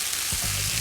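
Pasta and vegetables frying in a pan, a steady broadband sizzle with low stirring thumps and scrapes partway through, close and alone.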